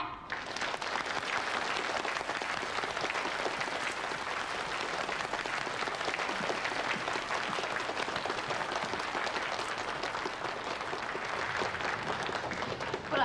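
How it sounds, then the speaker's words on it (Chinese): Sustained, even audience applause rolls on for over ten seconds as an author is welcomed onto a stage, a dense wash of many hands with no voices above it. "让我们以热烈的掌声欢迎顾几明顾先生上台"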